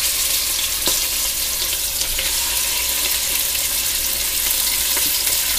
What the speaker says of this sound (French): les escalopes qu'on a farcies avec le Cantal et le lard que je vais faire dorer tout de suite dans mon Cookéo